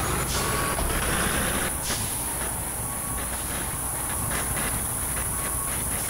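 A computer-driven fire engine in the EmergeNYC game strains to move, with a steady loud truck engine rumble, hissing air, and intermittent reversing-style beeps throughout.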